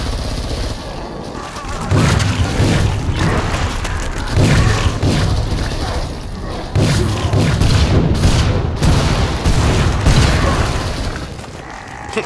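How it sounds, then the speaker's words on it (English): Grenades going off in the video game Killing Floor 2, loud booming blasts arriving in a dense barrage with thuds and crackling over a continuous roar. "That was a waste of all my grenades."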